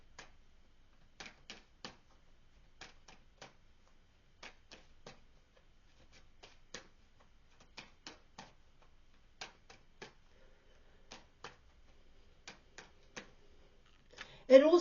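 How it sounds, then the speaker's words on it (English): Tarot cards are shuffled and pulled one by one, giving soft, sparse clicks and taps at irregular intervals, quiet and close, with a brief louder rustling burst at the very end. "I want to pull some more cards here"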